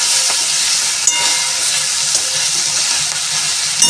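Eggplant and fenugreek sabzi cooks in a pan on a low gas flame, giving a loud, steady, close sizzling hiss with faint scrapes of stirring throughout.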